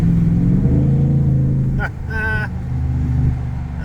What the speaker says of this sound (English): Sounds like a race truck.